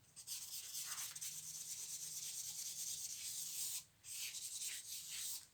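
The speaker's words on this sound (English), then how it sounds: "This is a harder piece, not totally burnt, so there's probably some wood still left in it, and it's quite scratchy." A harder, not fully burnt stick of charcoal with some wood left in it scratches across paper in steady, close strokes, with a brief pause near the four-second mark before the drawing resumes.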